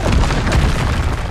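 A fire spell cast in the video game Hogwarts Legacy, heard as a dense, loud, rumbling whoosh of flame that fills the whole brief moment with steady low roar.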